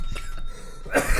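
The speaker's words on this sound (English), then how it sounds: "cough on your own mic" A single sharp cough close to the mic near the end, after a brief stretch of muffled room noise.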